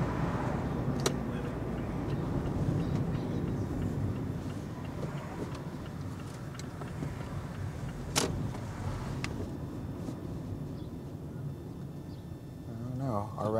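Freeway traffic near a Boyle Heights street in Los Angeles makes a constant low rumbling roar, heard from a walking route with a few sharp clicks and knocks nearby.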